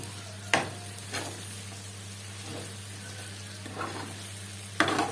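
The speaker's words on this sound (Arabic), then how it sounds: "هنقلب بقى برضو الفلفل مع الكبده والكلاوي والكفته بتاعتنا بالشكل ده." Peppers stirred together with liver, kidneys and kofta in a pan, with a steady low sizzle and several distinct scraping stirs at intervals, close and moderately loud, no talking.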